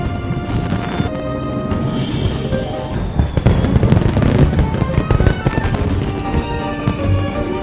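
Fireworks burst over a city at night in a drama scene, a dense, loud barrage of crackling explosions and sharp bangs rolling on without pause.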